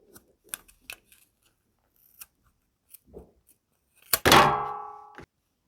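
Scissors snip through a length of tied yarn while a festive decoration is made, one sharp close cut and then a ringing metallic slide of the blades, after a few small quiet handling taps.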